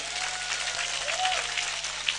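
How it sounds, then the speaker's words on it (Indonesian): An audience at an Islamic religious gathering applauds a woman, a dense, steady roar of many hands clapping that fills the whole stretch at a fairly loud level over a faint electrical hum. "tepuk tangan untuk Ibu"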